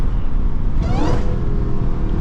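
A Dodge Charger Hellcat cruising in highway traffic rumbles steadily, with a brief rising supercharger whine swelling over the engine noise near the middle.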